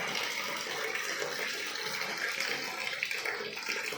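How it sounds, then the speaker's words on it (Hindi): Hot water gushes steadily from a bathroom tap in a home with hard water and a water softener, a dense, continuous rushing stream close to the listener with no talk. "ये अब गर्म पानी कर दिया मैंने"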